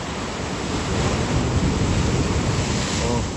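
Ocean waves crashing against the rocky shore at Wollongong, a loud, dense roar of surf mixed with wind buffeting the microphone, swelling slightly mid-clip.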